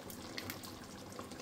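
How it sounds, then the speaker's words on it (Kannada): Water poured into a cooking pot of palak chicken curry, a short, continuous splashing trickle at moderate level with no talking. "ಸ್ವಲ್ಪ ನೀರು ಹಾಕಿ"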